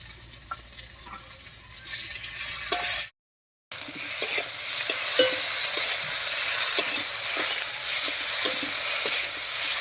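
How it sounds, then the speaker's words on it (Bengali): Ground chili and cumin pastes fry and sizzle in a hot pan while being stirred, a continuous close hiss punctuated by regular spatula scrapes and taps, with a short gap near the start. "মশলাগুলো দিয়ে একটু মিশিয়ে নিলাম"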